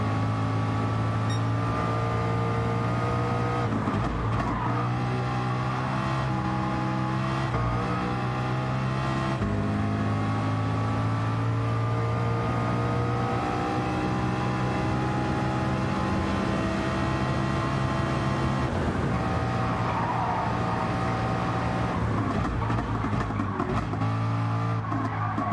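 A race car engine roars in Gran Turismo 7 on the Nürburgring, a loud continuous drone that climbs through the revs and drops sharply at each gear change, repeating over a long stretch.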